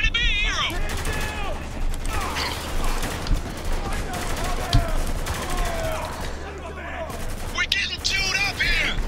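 Rapid bursts of gunfire and heavy automatic fire from a Spec Ops: The Line gunfight rattle on without pause, with distant booms and mechanical clatter layered in and voices talking over the shooting.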